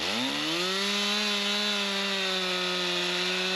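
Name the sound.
Stihl MS 360 chainsaw cutting firewood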